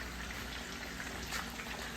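Steady, dense sizzling and crackling of chicken cutlets frying in hot oil, close and continuous with no talk.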